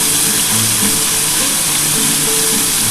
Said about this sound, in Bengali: আমার মাছের সাইজ একটু বড় আছে, তার জন্য কিন্তু আমি 2-3টে করেই ভাজছি